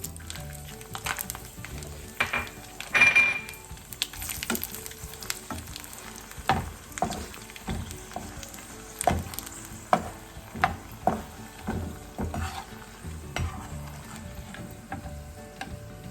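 Dried red chillies fry in oil for a string hopper mix, with a faint sizzle under a long run of irregular clinks and scrapes from stirring, some of them sharp and close.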